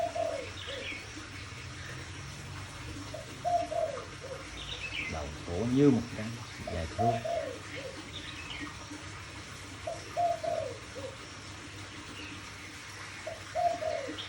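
Songbird whistling in repeated short, clear phrases at moderate distance, with a lower cooing note and someone speaking Vietnamese between the calls.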